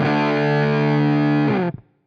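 Electric guitar driven through a fuzz pedal, one of a run of fuzz units including a Pharaoh, a Muff and a buzzbox, rings out as a loud, thick sustained chord for about a second and a half, then is cut off sharply, leaving brief string noise.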